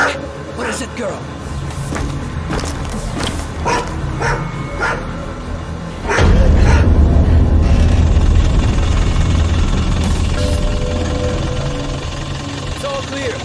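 Repeated sharp dog barks and yips from a dog at a checkpoint in the video game Road 96, mixed with game dialogue and a heavy low rumble, like a vehicle engine, that swells midway.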